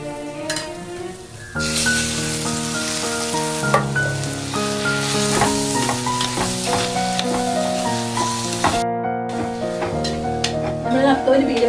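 Cooked anchovies are stirred into a coconut masala in a hot pan, sizzling steadily and loudly with scraping stir strokes, under background music.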